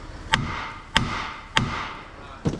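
Four sharp metallic hammer blows on a Range Rover Sport L320 brake disc, evenly spaced with a slightly longer gap before the last, each ringing briefly.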